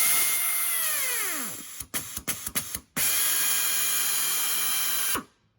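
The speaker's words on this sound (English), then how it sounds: "we are using a plus nut gun here. This is pneumatic, air powered" Air-powered pneumatic plus nut gun setting a rivet nut: a loud steady air hiss with a falling whine, then a burst of sharp clicks and ratcheting snaps, followed by more continuous hissing that cuts off abruptly.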